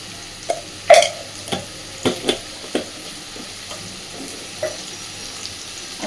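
Onions frying in a pan with hot chili powder just added, giving a low background sizzle broken by several sharp scraping and stirring knocks from a utensil, spaced irregularly and heard up close.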